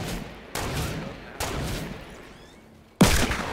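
Sniper shots ring out in a Fortnite match: four sharp, loud reports spaced unevenly, each with a long fading echo tail, the last one the strongest.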